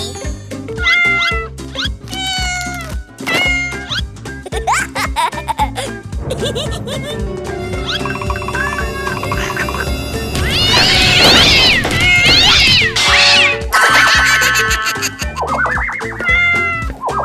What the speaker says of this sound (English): Evil cat, go out now.